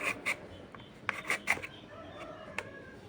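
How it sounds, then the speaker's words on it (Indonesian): Carrots are scraped across a hand grater in quick rasping strokes, arriving in short close bursts with brief pauses between them. "Biar lebih cepat aku serut aja wortelnya supaya lebih rapi dan lebih cepat."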